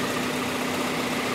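A 2005 Toyota Corolla LE's 1.8-liter VVT-i 16-valve four-cylinder engine idles steadily with a smooth, even hum and no other sounds.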